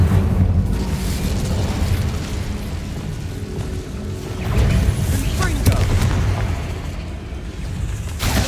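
Incendio fire spell from Hogwarts Legacy, a rumbling fiery blast swelling out of continuous game ambience and low music, with bursts around the middle, while a narrator speaks intermittently.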